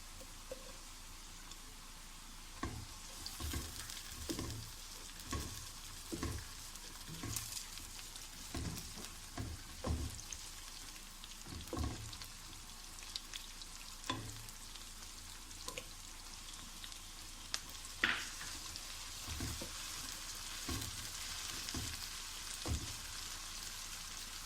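Onions for chole fry in a pan, giving a soft, steady sizzle broken by frequent sharp pops and crackles, faint and close with no talking.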